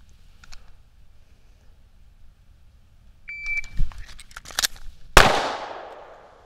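A shot timer gives a short electronic beep, followed by the metallic handling clicks of a pistol reload and then a single loud, close gunshot whose echo rings out and fades.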